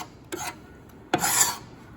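A hand scraper drags across wood on a blanket chest build, two short raspy scraping strokes, the second longer and louder, close by and with quiet between them.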